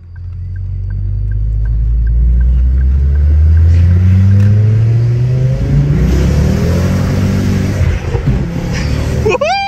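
Turbocharged 2010 Ford Focus ST revving hard nearby, a loud engine whose pitch climbs steadily and then wavers as the revs are held and released, with a sharp turbo whistle near the end.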